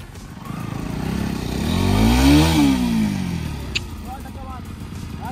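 An off-road motorcycle stuck on rough ground revs hard, its engine note climbing to a loud peak midway and then falling back, with a sharp clank near the end.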